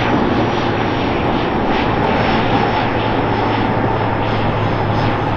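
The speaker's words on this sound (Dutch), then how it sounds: "We zien het Poolse vliegtuig nog aankomen." A steady, loud military transport airplane engine drone at a paratrooper mass drop airshow, a continuous rumbling roar without pause.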